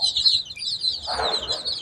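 A hen gives a short burst of clucks nearby on a rooftop farm, over high chirping of chicks.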